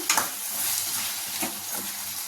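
Chili powder is stirred into bottle gourd tamarind curry in a hot pan, giving a soft sizzle with a few scraping spoon strokes over a short, close span.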